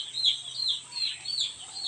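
Young chicks under heat lamps on a poultry farm cheep in rapid repeated high peeps, a steady chorus close by with a faint low hum beneath.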